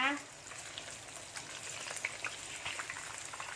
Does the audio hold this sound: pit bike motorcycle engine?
no